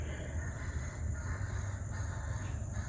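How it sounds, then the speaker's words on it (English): Crows cawing somewhere behind a woodland deer-hunting spot in the evening, with a steady low outdoor rumble. "We got crows going crazy back there."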